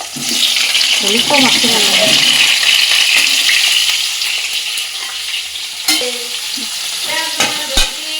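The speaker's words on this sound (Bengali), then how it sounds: "অনেকটা ভাজা হয়ে গেছে এবার এটা তুলে নেব" Potatoes frying in oil for Kashmiri aloo dum as they are stirred, making a loud, close sizzle with clattering and scraping of the spoon and brief voices partway through.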